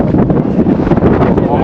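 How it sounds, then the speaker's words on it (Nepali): Strong wind buffets the microphone at the Sailung hilltop, a loud, continuous rumbling roar with gusty swells and no clear pauses. "सैलुङको हावा डेन्जरै छ है"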